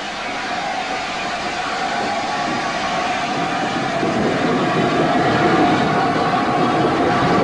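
A top-link LNER A4 steam locomotive runs past at close range, a steady, loud, continuous rail roar with a faint rhythmic clatter that swells slightly toward the end.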